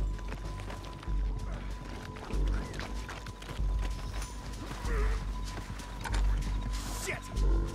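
Horse hooves clip-clop at a steady trotting rhythm in the Red Dead Redemption 2 video game, fairly close and continuous, with game ambience and some voices around.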